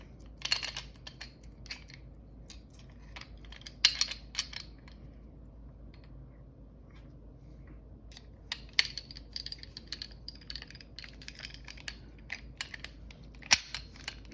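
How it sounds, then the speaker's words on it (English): An STI Trojan 1911 pistol slide jiggled to seat the barrel lug, giving sparse sharp metallic clicks and clacks in short clusters over a quiet background, close by. "You're just going to jiggle it until you get the barrel lug in position that you need it to be to get your slide stop in"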